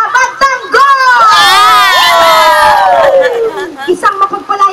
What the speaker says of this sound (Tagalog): salubungin natin ng mas maraming palakpakan at mas maraming hiyawan at pasyon!